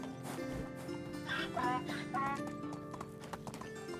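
In the Medieval Dynasty video game, horse hooves clip-clop in a steady rhythm alongside a brief whinny, close and clear over game music, with some speech mixed in.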